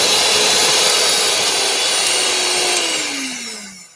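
An electric hand whisk beats three eggs with sugar for a lemon Swiss roll, a loud steady motor whir that holds for several seconds, then winds down with a falling pitch.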